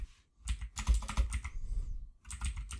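Close, loud typing on a computer keyboard while creating a new code file, with dense clusters of clacking keystrokes separated by short pauses.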